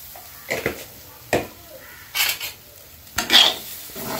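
Powdered turmeric, cumin and chili are stirred into a frying pan, with soft scraping strokes and brief sizzling bursts coming in a few spaced clusters, fairly close and moderate in loudness, with low background quiet between them.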